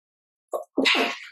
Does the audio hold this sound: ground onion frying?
no